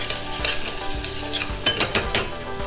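Shaved garlic, sliced thin on a mandolin, sizzles in a pan as the base of a celeriac clam chowder, with a soft steady frying hiss broken by several sharp scraping stirs near the end.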